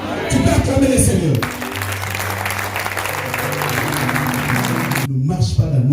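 A church congregation applauds and cheers for the Lord, a sustained, close clatter of clapping with shouts, while a preacher's voice carries over it before and after.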